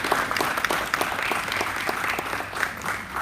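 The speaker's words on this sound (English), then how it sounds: "Please give him a round of applause." A congregation gives a loud, close round of applause at an evening church gathering in Perth. Dense, continuous clapping runs throughout, with sharp claps standing out and no speech over it.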